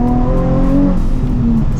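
A Nissan 350Z idles and cruises at low RPM with a steady, smooth, deep purring engine note that stays loud and close throughout, with no talking.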